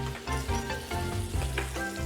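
Sliced onions hit hot oil in a pan for chicken Florentine, giving a loud, continuous sizzle that crackles and swells throughout with a low steady hum beneath.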